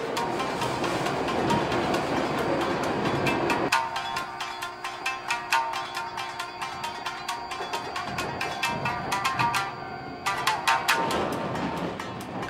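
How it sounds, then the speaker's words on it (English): A train passes near a riverside campsite in Shikoku, Japan, in winter, a sustained loud rumble with dense rhythmic clatter of wheels over rail joints running the whole length. "And another train."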